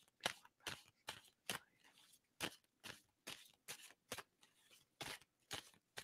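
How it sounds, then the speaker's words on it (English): Tarot cards are shuffled in quick, crisp riffles, about a dozen sharp bursts in a steady rhythm, close and fairly quiet, with no voices. "I'm going to stop shuffling"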